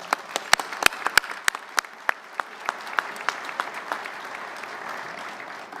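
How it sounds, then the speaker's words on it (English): Audience applause for awardees at a luncheon, starting with a few sharp individual claps that swell into steady, moderately loud clapping from a seated crowd. "Round of applause."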